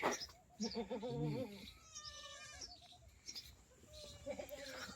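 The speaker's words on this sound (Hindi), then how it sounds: "एक बार आपको बकरी बता देते हैं" A goat bleats in a field several times in short wavering cries, close and clear, with quieter voices and outdoor background sounds between the calls.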